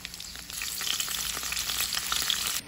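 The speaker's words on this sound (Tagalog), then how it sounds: "Iprito naman po natin ang carrot" Carrots fry in hot oil with a steady, close bubbling sizzle and faint crackles, quieting abruptly at the end, with no talking.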